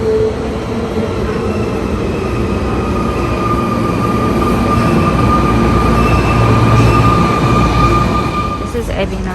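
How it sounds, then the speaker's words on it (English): A train rolls into a station on the line toward Ebina with a loud, steady rumble and hum. Wheels whine faintly as it arrives, and a voice speaks over the noise. "The train is here. Going to Ebina."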